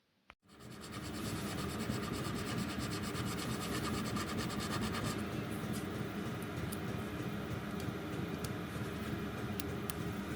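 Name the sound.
metal filing on connecting rod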